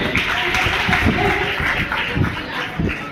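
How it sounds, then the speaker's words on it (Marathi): A burst of lively clapping from a group at a magic show at a birthday party fills the whole moment, continuous and fairly close. "एकदा यांच्यासाठी जोरदार टाळ्या."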